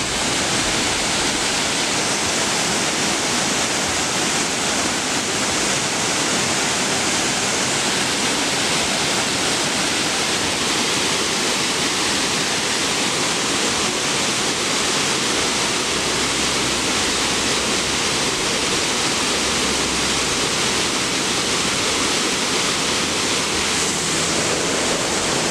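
River water rushing near a small hydropower site at Cressbrook, a loud, continuous broadband roar of churning flow that stays steady and close with no voices over it.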